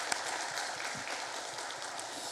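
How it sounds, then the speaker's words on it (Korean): A church congregation at Sunday morning worship claps for a newly licensed preacher. The applause is soft and even, a steady patter over the short stretch with no talk. "앞으로 강도사로 사역 잘하도록 박수 한번 하겠습니다"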